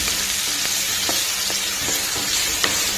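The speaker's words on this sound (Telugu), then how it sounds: "ఆనియన్స్ గ్రీన్ చిల్లీ వేసేసుకున్నాను ఇవి కూడా మంచి గోల్డెన్ బ్రౌన్ కలర్ రావాలండి ఫ్రై చేసుకున్నాం" Onions and green chillies fry in hot oil in a pan for an egg tomato curry, making a steady close sizzle with faint stirring taps spaced through it.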